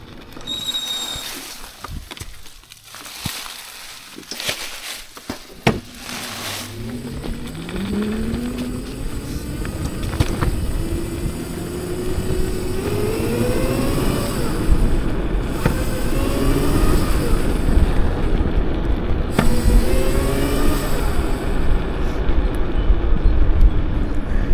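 A Razor MX 650 electric dirt bike rides around fairgrounds, its motor whine rising and falling in pitch as it speeds up, riding close over a steady rushing noise. A few sharp clicks and bumps come early on.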